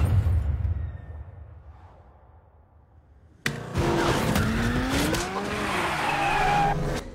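A car drifts on a Fast & Furious 6 film set. A low rumble gives way to a sudden loud burst of engine and long, wavering tire squeal that persists to the end, no speech.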